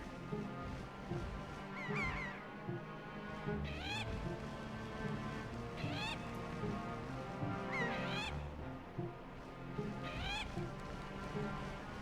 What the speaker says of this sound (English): no wonder the seagulls were actually over here